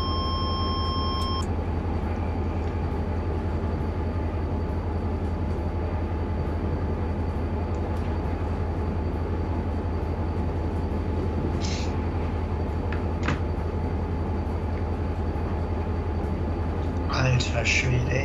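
An EMD SD40-2 diesel locomotive hauls a freight train in Train Simulator with a steady low engine drone and rumble, a few short electronic beeps, and light clicks near the end.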